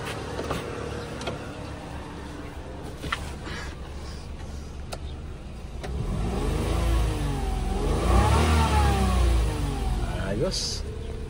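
A Toyota Wigo's engine idles steadily, then revs up and holds at higher speed before easing off, close and loud, with someone talking over it.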